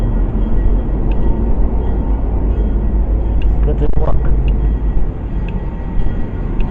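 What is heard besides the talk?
train passing by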